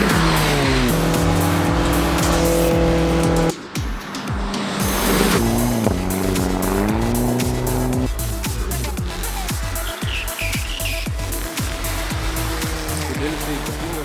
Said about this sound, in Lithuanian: mašina važiuoja, suka į posūkius